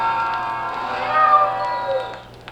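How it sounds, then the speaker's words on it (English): A cat meowing from a Halloween spooky-sounds vinyl record, a single long, drawn-out wavering yowl that rises and then trails off, fairly loud and heard alone. "cat wants something."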